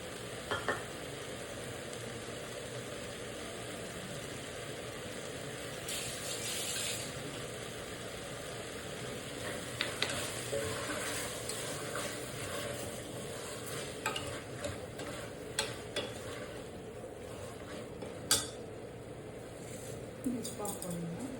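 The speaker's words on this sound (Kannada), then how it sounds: "ನಾನೀಗ ಸ್ವಲ್ಪ ಮೊಸರು ಹಾಕ್ಕೊತೀನಿ," Yogurt stirred into mushroom biryani masala frying in a pan: a steady sizzle with scattered clicks and scrapes of a spoon against the pot.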